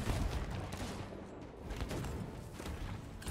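Ship cannon fire in the pirate video game Sea of Thieves, a dense run of booming blasts and heavy thuds rolling across the whole stretch, loud and continuous with no clear gaps between shots.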